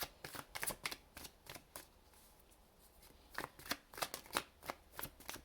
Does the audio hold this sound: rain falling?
no